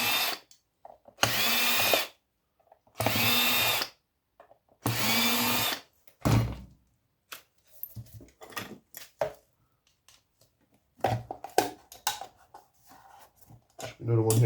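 Power drill working screws out of aluminium electrical scrap: three loud, steady whirring bursts of about a second each, followed by scattered clicks and handling noises, with a person talking in between.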